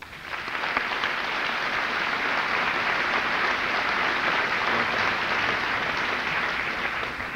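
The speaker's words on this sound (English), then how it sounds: "we also owe them a round of applause" Sustained audience applause fills a high school graduation hall, a dense, even wash of many hands clapping at steady loudness for several seconds, with no voices over it.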